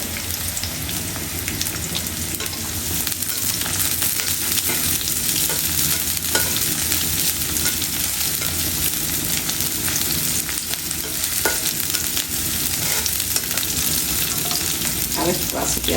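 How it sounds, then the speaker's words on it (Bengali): Onions sizzling in hot oil in a pan while making sajna (drumstick) leaf bhaji, a dense continuous frying crackle with occasional stirring scrapes, close and loud. "এখন আমি পেঁয়াজ দিলাম।"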